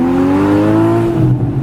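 A Porsche Boxster S engine revs hard with a rising pitch, a continuous high-powered roar close by that climbs and then rumbles.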